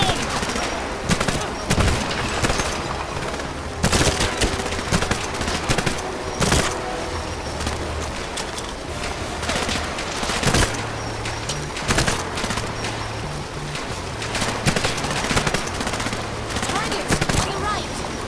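Gunfire from the player's weapon in the 007 Legends game cracks in repeated short bursts and single shots, loud and close, with irregular rhythm across the stretch and brief lulls between volleys.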